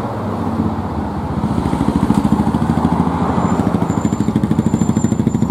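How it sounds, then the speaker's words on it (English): A motorbike engine putters close by on Newtownards Road in Belfast, a loud, steady rapid thrum that grows a little stronger as it passes, heard alone with no one speaking. "Bike."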